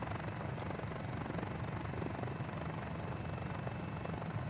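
A helicopter's engine and rotor in a flight simulator game drone continuously, a dense, steady whir and rumble with a fast pulsing beat, quiet and without voices.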